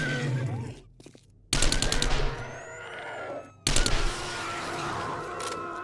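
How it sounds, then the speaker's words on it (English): Bursts of SMG fire in the survival game 7 Days to Die, two dense rapid-fire strings rattling loudly and up close, separated by quieter moments. "Keeping the SMG rolling."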